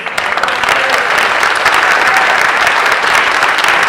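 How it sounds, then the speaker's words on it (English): Crowd at a Philadelphia community rally breaks into sustained applause for a speaker, a loud continuous wash of many hands clapping for several seconds. "a big round of applause"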